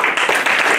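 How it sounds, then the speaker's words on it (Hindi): Brief burst of audience applause at a Rotary Club of Varanasi North gathering for the club president, loud dense clapping heard close. "हमारे ऊर्जावान और इस अध्यक्ष के लिए जोरदार तालियां।"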